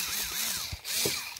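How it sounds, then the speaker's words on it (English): Cordless power drill boring into a moped scooter body while installing a subwoofer, a loud whining motor with rising and falling pitch and a brief dip in the middle. "drill."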